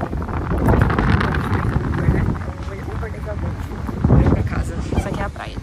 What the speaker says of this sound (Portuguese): E tá ventando agora, que a gente tá pegando.